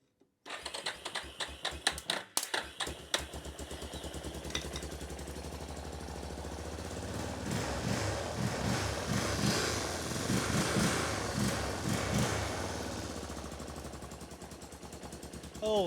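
A 1993 Yamaha Big Bear 350 ATV engine idles rough and uneven after a sharp start, with a sputtering, popping exhaust that keeps up steadily and loud throughout while it runs rich on too much fuel.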